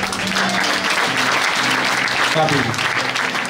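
Church congregation applauding and cheering in praise of Jesus Christ, a dense, steady burst of clapping from a large crowd filling the room, with voices mixed into the ovation.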